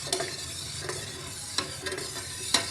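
A spoon stirs powdered dye and salt into water in a cup, scraping and swishing in several close strokes with short clinks against the sides, no voices.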